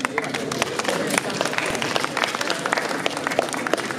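An audience at a spring day school event claps after a performance, with busy overlapping applause and sharp individual claps close by, running steadily throughout.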